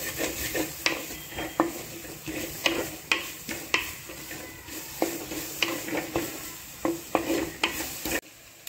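Finely chopped banana flower stem is dry-fried without oil in a pan, with a steady light sizzle and regular spatula stirs scraping and tapping the metal about once a second.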